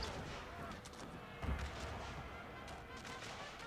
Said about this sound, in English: They're opening up fire from the forest, and now the troops in the back are opening fire as well